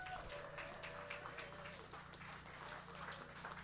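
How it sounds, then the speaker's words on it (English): An audience at a barn hoe-down applauds the helpers, steady soft clapping that carries on under a voice. "Let's give them a huge round of applause,"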